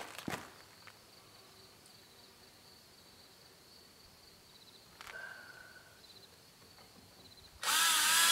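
A power drill driving 3.5-inch number 10 screws into wood for a shop wall, short whirring bursts separated by quiet gaps, the last burst loud and close, with faint insect chirps in the background.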